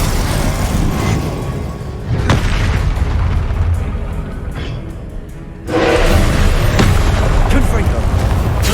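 Fiery blasts from the Confringo spell in Hogwarts Legacy boom through busy combat noise, with one strong burst partway through and a constant roar of battle effects.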